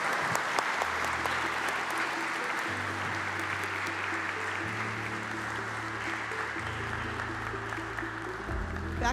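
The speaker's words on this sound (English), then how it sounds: "Let's give them a warm round of applause" A conference audience at a development forum's closing session gives a sustained round of applause, even and continuous throughout, with low tonal hum and some music-like notes running underneath.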